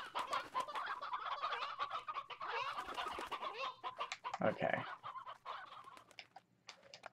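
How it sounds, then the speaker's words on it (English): Painted hen chickens in the video game Slime Rancher cluck steadily, with overlapping bird calls and fowl chatter forming a continuous, moderately loud farmyard bed. A short spoken word comes near the end. "Have some painted hen babies."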